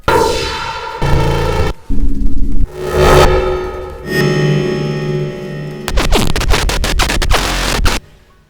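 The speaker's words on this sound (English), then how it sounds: "In this video I've collected about 7 nice, interesting and completely different glitch samples" Glitch sound design built from extreme compression artifacts: harsh, buzzing, scratchy digital bursts that cut in and out abruptly, shifting between chopped tones, smeared noise and stuttering clicks, loud and alone.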